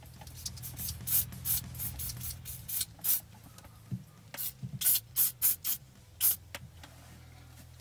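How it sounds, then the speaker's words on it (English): Silicone spray from an aerosol can is applied to a dashboard bracket on a Mercedes W204 C-Class, coming as a series of short, close hissing bursts with brief gaps, several quick puffs in a row. "I like to just spray a little bit of silicone spray in there."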